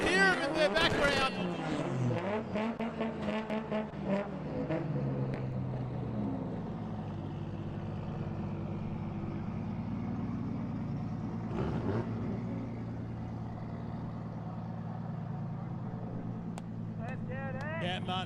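Drift race cars revving in the background at an evening final-battles event, a continuous droning engine roar with rising and falling pitch sweeps, heard under a commentator's voice.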